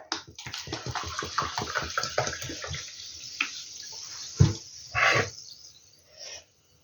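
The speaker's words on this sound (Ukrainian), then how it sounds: "Тепер виливаю воду у ковшик" A measured 250 ml of water is poured from a small measuring cup into a little saucepan, making a steady, close splashing stream for about four seconds that ends in a few final splashes and drips.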